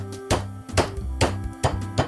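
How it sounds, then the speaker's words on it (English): A hammer or mallet pounds a piece of pork thin, with five loud, evenly spaced thwacks about half a second apart over a low background hum. "hammer out a piece of pork"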